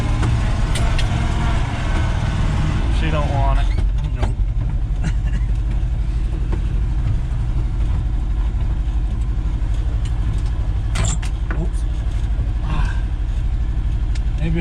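A 1973 Ford F-250 truck's engine idles after a cold start in snow, a loud, steady low rumble holding throughout with a few faint rattles and clicks over it.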